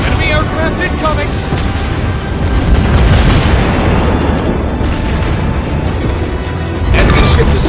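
Loud, continuous booming explosions and gunfire from warships in World of Warships Blitz, a dense rumbling barrage with repeated blasts filling the whole stretch, with game voice callouts under the noise.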